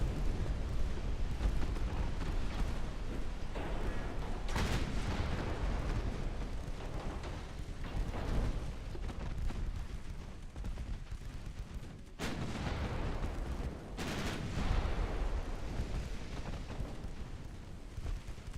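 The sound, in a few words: torpedo hits and explosions in Ultimate Admiral Dreadnought video game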